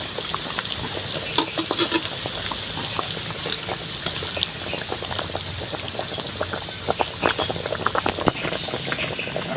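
A pot of fish broth bubbles at a steady rolling boil, with crisp pops and bursts scattered over a constant liquid churn.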